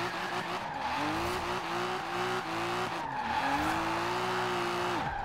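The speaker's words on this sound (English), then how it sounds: "now I am going to drift this car" Subaru BRZ drifting in Forza Horizon 4, its engine holding a steady high drone while tires squeal continuously through long slides, with brief dips between sweeps.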